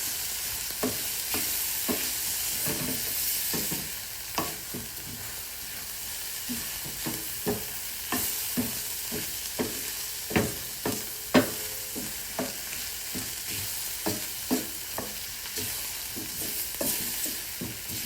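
Garlic sizzling in a hot pan on the stove, a steady close frying hiss with frequent soft scrapes and taps as it is stirred.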